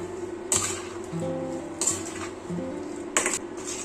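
A potato and beetroot stir fry is stirred in a pan, the spoon scraping and clinking against the metal in three sharp bursts about every 1.3 seconds over a steady low kitchen hum, near and with no talk.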